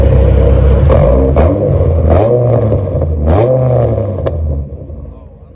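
A pickup truck engine is revved close by, rising and falling in a couple of deep throaty pulls with exhaust crackle between them, then settling back toward idle, with a voice partly audible over it.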